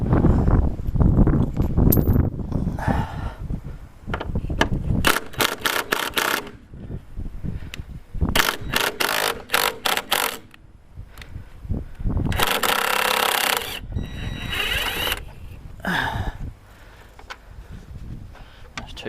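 A power impact gun runs in short, loud, rattling bursts at close range as it drives front suspension bolts with washers on an Audi B6 S4. Clanks and handling noises from the workshop fall between the bursts.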